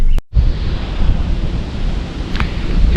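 Strong wind buffets the microphone at a lakeside campsite at sunset, a loud, steady rushing roar with low gusty rumble that barely lets up after a brief dropout at the start.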